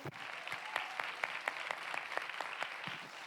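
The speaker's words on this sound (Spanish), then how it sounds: "démosle ese aplauso al Rey" A church congregation claps together in a steady, moderately distant round of applause, the individual hand claps blending into an even patter throughout.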